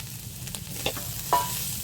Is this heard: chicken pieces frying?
yes